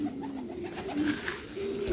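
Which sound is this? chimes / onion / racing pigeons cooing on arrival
racing pigeons cooing on arrival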